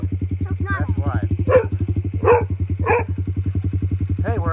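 A Yamaha TTR50 pit bike, just back together after a top-end rebuild and carburetor work, idles steadily with a quick, even putter close by, while several people talk over it.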